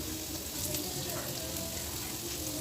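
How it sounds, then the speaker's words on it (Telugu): Onions frying in a pan with ginger garlic paste and turmeric, a steady soft sizzle throughout, close and fairly quiet with no talk. "ఇక్కడ చూడండి ఆనియన్ కొంచెం ఫ్రై అయినాయి"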